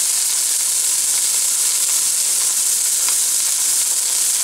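Garlic and onions sizzling in hot vegetable oil in a pot: a loud, steady, crackling fry with faint pops, constant throughout and close up, no speech.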